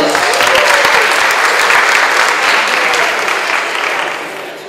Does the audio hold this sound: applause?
yes